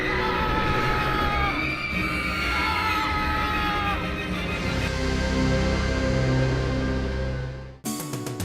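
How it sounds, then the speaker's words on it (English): Riders on the Revenge of the Mummy roller coaster scream and whoop together in a loud sustained chorus, voices sliding in pitch, before a sudden cut to rushing ride noise at the end. "All the screaming and cheering has left me really hungry"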